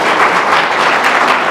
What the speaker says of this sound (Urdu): ان کے لیے تھوڑی سی تالیاں